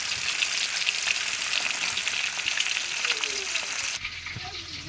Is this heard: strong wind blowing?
no